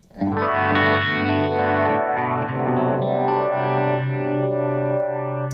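A sustained electric guitar chord through a GarageBand Blue Wave preset, drenched in a shimmering, chorus-like distortion effect, rich and full, ringing out with slowly shifting overtones.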